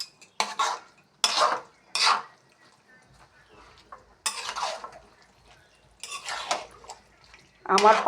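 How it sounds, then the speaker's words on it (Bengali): A cooking pot of herbal pachan, filled with many medicinal leaves, is stirred in short scraping, clattering bursts separated by near-silent pauses. "এখন ভালোভাবে নেড়ে নিচ্ছি"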